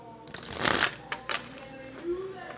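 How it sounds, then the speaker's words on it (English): Tarot cards shuffled by hand in soft, quick riffling bursts, close and fairly quiet, with small rustles and taps between them. "If I can shuffle."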